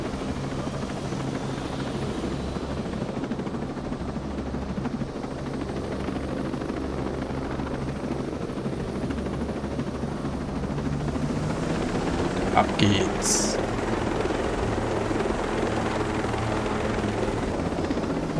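A military helicopter's engine runs in a video game, a continuous low, throbbing rotor and turbine drone that holds steady and swells slightly partway through, with a voice speaking briefly over it.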